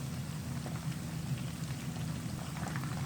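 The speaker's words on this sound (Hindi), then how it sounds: "बाकी के जो बचे हुए पीसेस हैं वो भी मैं इसी तरह ही डीप फ्राई कर लूँगा" Chicken lollipop pieces deep frying in oil give a continuous dense bubbling sizzle, steady and fairly loud like rain on a surface, with no voices.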